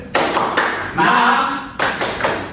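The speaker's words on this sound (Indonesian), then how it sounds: "Tepuk semangat." A classroom of students performs the rhythmic tepuk semangat spirit clap, sharp sets of group claps and taps in a patterned beat with a short shouted pause in the middle, loud and close.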